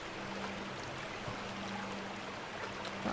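Water streaming steadily from a pump hose in the mining game Gold Rush, a continuous rushing wash with a faint low hum running beneath it, no talking.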